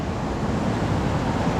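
Sea waves wash onto a shore where people gather seashells and crabs. The surf makes a steady, loud, broadband rush with a windy edge, and there are no voices.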